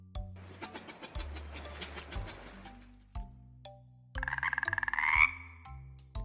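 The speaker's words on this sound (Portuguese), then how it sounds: "Esse é o som da rã, que acabou de coachar." A frog croaks in rapid rattling pulses, first a dense stuttering croak then a rising trilled call, set against a light bouncy children's music backing.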